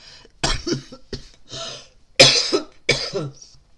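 A person coughs repeatedly in quick irregular bursts, close and fairly loud, with a throaty rasp and no talk in between.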